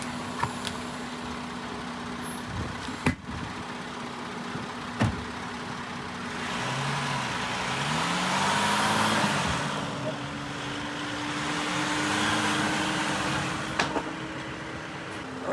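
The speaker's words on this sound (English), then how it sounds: "I'm going to drive up this timber and break the bead on the tyre." A ute engine runs and revs steadily nearby as the vehicle drives up onto a piece of timber to break a tyre bead, with a few sharp knocks and clunks and no talk.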